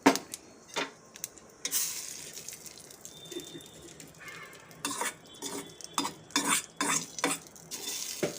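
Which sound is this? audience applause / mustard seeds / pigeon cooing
mustard seeds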